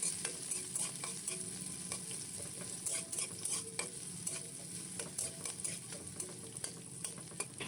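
Sliced garlic goes into onions already frying in a pan, giving a steady, close sizzle with scraping stir strokes throughout, no voices over it.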